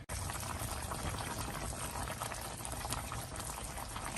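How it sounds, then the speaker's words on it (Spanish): Eggs boil in a pot of water on a kitchen stove, a steady, loud bubbling and hissing roil that fills the whole stretch without pause. "Por aquí ya tenemos hirviendo los huevos, hay que dejarlos un ratito."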